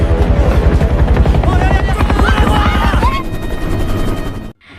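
Helicopter rotor blades thump rapidly and loudly over a roaring engine, with brief voice-like cries mixed in before the noise cuts off abruptly.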